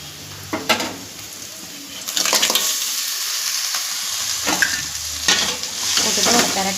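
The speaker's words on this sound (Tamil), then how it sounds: "இப்போ வந்து இந்த நண்டை போட்டுக்கலாங்க." Crab fries with onions in a pan, a loud close sizzle broken by several scraping stirs and utensil knocks against the pan, without any talking.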